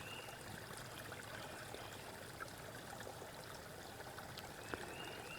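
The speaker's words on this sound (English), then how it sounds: "little bit of trickling water right below us." Water trickling over mossy rocks just below a forest hiking trail on the Duck River Trail, a steady soft wash heard alone, fairly close and even, with a couple of faint clicks.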